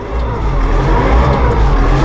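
Massey Ferguson compact tractor engine revving up under auto throttle with an eHST transmission in high range, a loud, close, steady drone with no talk.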